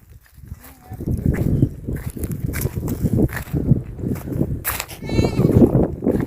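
Bleating from sheep and goats amid a noisy, shuffling crowd of animals, with a few higher calls standing out near the end and some voices in the background.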